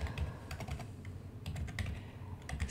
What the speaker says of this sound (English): I'm typing very poorly today